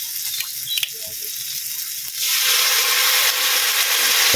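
Dried fish (tuyo) hits a hot pan while cooking adobong kangkong Chinese style, after a few clinks, and a loud steady sizzle of frying takes over and keeps going.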